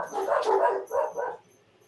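Dogs barking during a live show, a burst of close yaps followed by two shorter barks that trail into quiet.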